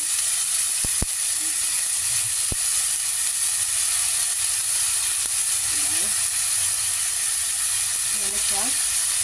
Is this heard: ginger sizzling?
yes